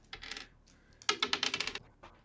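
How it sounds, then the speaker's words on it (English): Two dice rolling on a table during a tabletop role-playing one-shot: a brief clatter, then a longer run of quick, close clicking rattles that fades to a final soft tap. "Oh, I heard another dice."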